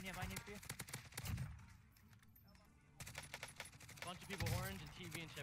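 Rapid bursts of automatic gunfire from a powerful weapon in Call of Duty Warzone, two clusters of quick cracks separated by a quieter stretch, heard beneath someone talking over the gameplay.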